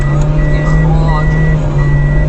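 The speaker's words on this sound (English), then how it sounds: "he slammed the gear into reverse and tore backward into the darkness" Repeating reversing beeps from a vehicle sound low and steady under a heavy engine rumble, loud and close, with speech running over them for the short span.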